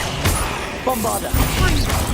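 Bombarda blast spell in the video game Hogwarts Legacy, heard as several short bursts of impact and crackling over a steady game backdrop, with a voice talking at the start.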